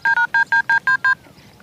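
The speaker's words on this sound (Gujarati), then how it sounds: "લાવ ફોન કરવા દે" Telephone keypad dialing tones: seven crisp, evenly spaced beeps in quick succession, loud and close, followed by a quiet pause with no talking.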